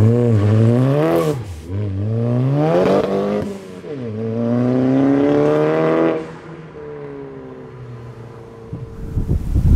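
A tuned 300hp Skoda vRS with a resonated Magnaflow exhaust and a Borla Spitfire end can revs loud and close, its engine note climbing and falling in several throttle blips before settling to a steadier drone.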